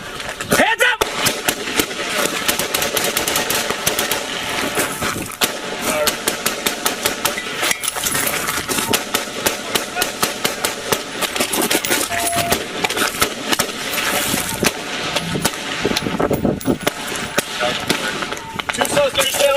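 Gunfire erupts during a police officer-involved shooting in Pasco, with many sharp, loud shots cracking in rapid, irregular bursts throughout, mixed with shouting and radio chatter.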